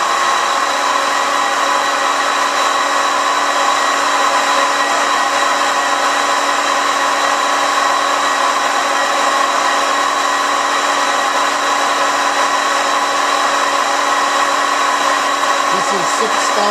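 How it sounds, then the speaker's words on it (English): A 2006 Fadal 4020 CNC mill with a Fanuc 18iT control runs its spindle with a loud, steady mechanical whine and hum, and a slight shift near the end. "This machine has a gear change at 2500 RPM. So you'll see it change gears."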